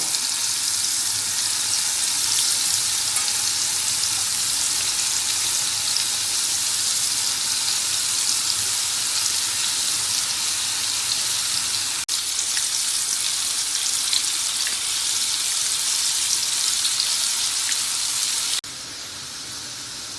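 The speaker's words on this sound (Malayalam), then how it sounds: "ഇനി ഇതെല്ലാം ഇട്ടിട്ട് നമുക്ക് വറുത്തെടുക്കാം" Bitter gourd slices fry in hot oil with a loud, continuous sizzling hiss that holds steady for about eighteen seconds before dropping suddenly in level.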